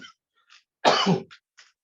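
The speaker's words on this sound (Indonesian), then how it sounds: "maaf ini lagi batuk" A single harsh cough bursts out close up, short and loud, surrounded by a few faint breathy sounds and near silence.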